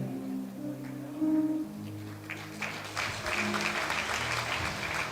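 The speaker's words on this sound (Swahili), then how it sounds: "Tuwapigie makofi tafadhali." A church congregation claps to welcome visiting pastors. The applause is moderately soft and swells from about midway, after an opening of low sustained tones and murmuring.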